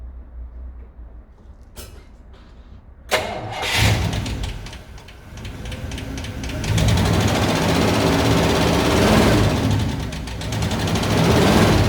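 An engine being started after carburetor removal for access to the camshaft and rocker shafts, with a valvetrain noise fault; it cranks in brief bursts, catches, then runs steadily at a loud, rising idle.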